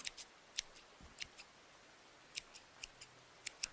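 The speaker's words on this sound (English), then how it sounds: "a lot of people like the sound of scissors" Crisp, quiet scissor snips in small clusters, close and isolated, with pauses of near silence between bursts.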